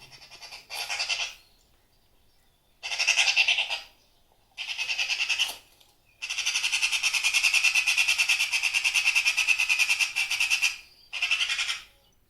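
Recorded magpie calls played back from a file to scare off starlings: loud, harsh chattering squawk bursts in several separate runs, one long sustained stretch in the middle, with silent gaps between.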